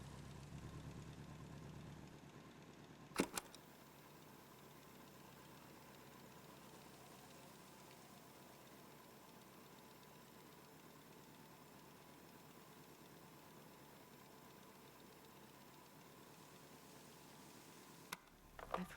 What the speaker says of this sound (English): I should record the hum of this engine.